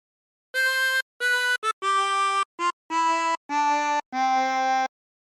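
Eight blown and drawn notes on a 24-hole tremolo harmonica trace the opening phrase of Joy to the World, descending in pitch with short gaps between reedy, wavering tones, played alone and close.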